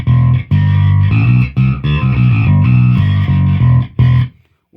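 Electric guitar or bass through a Tech 21 Dug Pinnick signature pedal with its gain switch off, playing loud, thick driven chords and riffs in short bursts with brief gaps, cutting off at the end; no talking.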